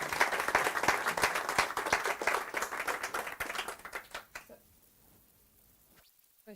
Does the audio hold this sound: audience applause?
yes